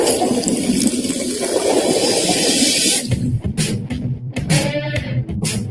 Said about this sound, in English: we poured Coke Zero using just sound.